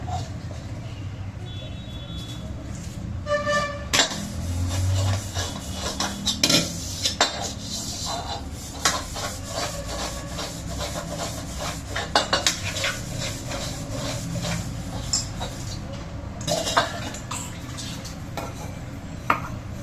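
Pots, a pressure cooker and dishes being scrubbed and washed at a kitchen sink, with frequent metallic clanks and knocks, scraping and running water, steady and close.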